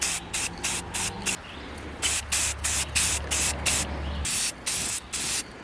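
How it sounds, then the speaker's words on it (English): Rust-Oleum high performance enamel spray paint is hazed in light coats onto a bracket on a Ford Galaxie: a series of short, close hissing bursts in a steady rhythm, over a low background hum. "Got my Rust-Oleum high performance enamel. It's professional stuff. We use it all the time. Just gonna haze a little coat on here."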